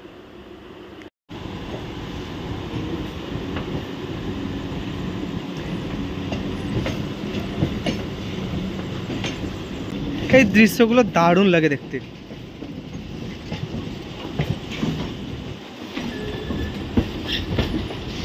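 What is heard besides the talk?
local trains passing on curved railway track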